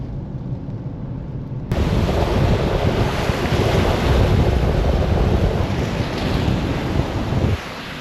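Typhoon Carina pounding Manila with a loud, steady roar of wind and storm noise that surges in after a quieter start and holds heavy and close throughout, with gusts buffeting the microphone.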